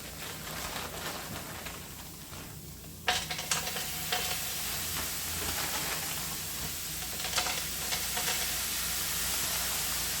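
Onion and green pepper, some of it from the freezer, frying in a pan for Philly cheesesteak, giving a steady close sizzle and hiss with a sharp burst of spitting as the pepper hits the hot pan.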